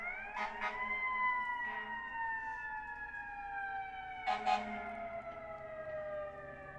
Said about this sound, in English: There are some massive sirens in the background.